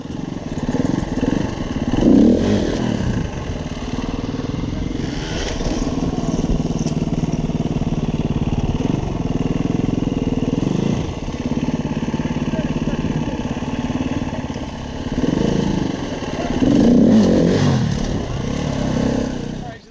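Enduro motorcycle on a steep hard-enduro training slope, its engine droning steadily and surging in two louder revving bursts, with talk partly over it.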